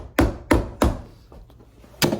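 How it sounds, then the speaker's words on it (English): A hammer striking nails back down through the heel base of a cowboy work boot during resoling: three quick, close, solid knocks, a pause, then a fourth blow, alone without talk. "So we're gonna take those and just hammer those back down through."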